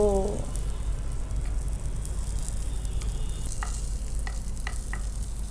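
Aloo chaat potato patties fry in a pan, browning lightly on both sides, with a steady, dense sizzle throughout. A few faint clinks are heard near the end, and a short vocal sound comes at the very start.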